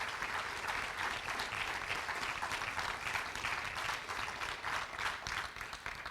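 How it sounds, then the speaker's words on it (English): A banquet audience applauds the 2019 Hall of Fame class, dense continuous clapping heard from a distance at moderate volume, sustained evenly for several seconds with no voices on top. "How about another round of applause for this 2019 Hall of Fame class?"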